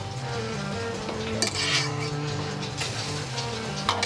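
Food sautéing in a pan to brown, with a continuous sizzle under occasional stirring scrapes and light clinks of utensils against cookware, close and moderately loud.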